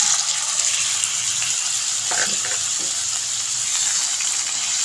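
Marinated chicken sizzling steadily in hot oil in a pan, a bright, even frying hiss with a few faint pops and stirring noises near the middle.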